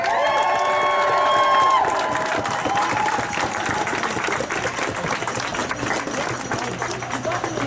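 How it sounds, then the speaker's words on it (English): Audience applause and cheering at a live comedy show, steady clapping with scattered whoops filling the room at close range. "Thank y'all for giving me a round of applause."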